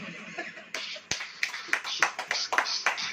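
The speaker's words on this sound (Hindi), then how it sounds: "ताली बजाओ।" Scattered hand claps from a church congregation during a sermon, a sparse irregular run of sharp claps that picks up after a quiet start, fairly faint and close.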